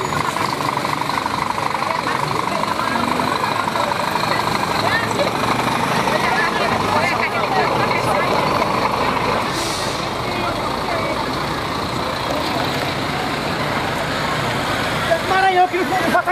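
A truck engine rumbles and idles, then edges forward at a street protest before tyres are set alight. The noise is steady and close, with people shouting and talking over it throughout.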